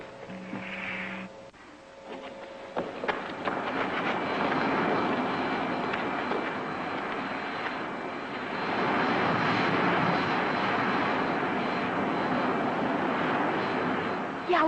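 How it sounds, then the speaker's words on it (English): A spaceship landing-engine effect from a vintage science-fiction serial, a broad roaring drone that builds after a brief pause and holds loud and steady, rising again toward the end, with no voices heard. "Handle the landing, Griff."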